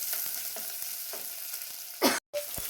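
Shallots, fenugreek and curry leaves sautéing in oil in a pan, a continuous sizzle broken by spoon scrapes, then a louder burst of stirring and a brief dropout.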